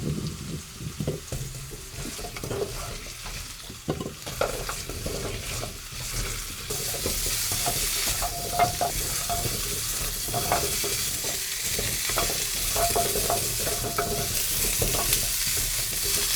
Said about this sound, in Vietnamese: Và mình cho khoai tây và cà rốt vào xào đều lên nha các bạn.